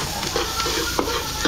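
Garlic and onion sautéing in a pan, a loud continuous sizzle and frying hiss with occasional light scrapes of stirring, close by.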